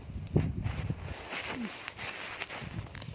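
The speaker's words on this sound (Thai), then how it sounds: "โอ้ยลม" Wind gusts buffet the microphone outdoors in the countryside while wild vegetables such as phak tiu and mushrooms are being picked, a steady low rumbling roar with no talk.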